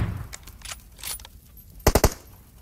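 Gunfire rings out in the mobile battle game BGMI, a few scattered shots followed by a tight burst of three sharp cracks, loud and close with no talk over them.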